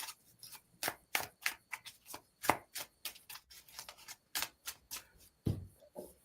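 A deck of cards is shuffled by hand in quick, repeated riffles and snaps, a close, crisp series of short bursts in a steady rhythm with no talking.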